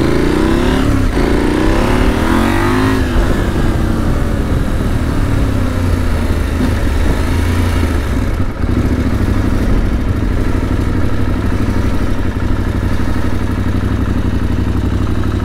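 A motorcycle fitted with an SC Project Rally exhaust rides on a road trip, the engine rising through a loud rev before settling into a steady close drone, with no talking.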